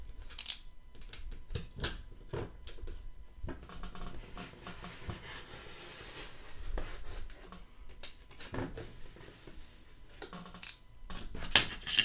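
Blade slicing through thick foam board, a series of short scraping rasps and crunchy rubbing strokes, close and fairly quiet, with brief pauses between cuts.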